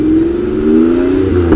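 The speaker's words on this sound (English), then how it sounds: "delivering an exhilarating driving experience characterized by a distinctive V8 growl." Porsche Cayenne GTS V8 engine revving loudly and close, a steady deep growl that climbs slightly in pitch before the revs ease off near the end.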